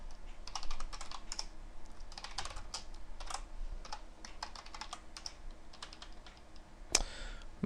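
Typing on a computer keyboard into a telnet session, a quiet, close run of irregular key clicks with a sharper keystroke near the end.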